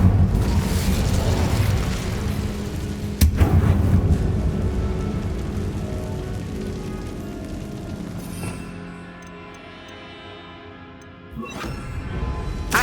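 The Incendio fire spell cast in Hogwarts Legacy, heard as a deep rumbling whoosh of flame that swells and fades, with two sharp bursts standing out and no talking.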